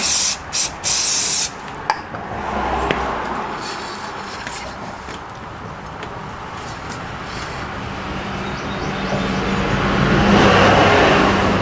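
A few quick hissing bursts of cleaner sprayed onto a towel while cleaning a Yamaha YZF R6 motorcycle wheel, then a steady wash of road traffic noise that slowly grows louder.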